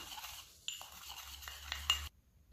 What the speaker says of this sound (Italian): unisco l'aceto al bicarbonato. Lavoro con un cucchiaino